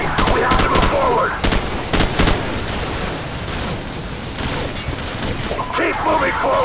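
Rapid bursts of gunfire in Call of Duty 4: Modern Warfare, loud and close, with repeated volleys and automatic fire over a constant battle din, with shouted voices underneath.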